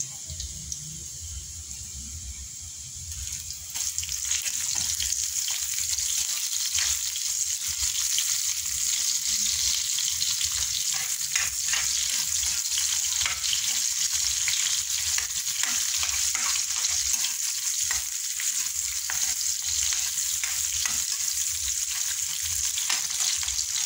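Garlic and onions frying in a pan, a quieter start then a sudden loud steady sizzle after they go in, with intermittent stirring scrapes close by.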